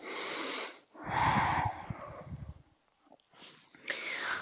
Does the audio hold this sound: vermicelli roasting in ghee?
no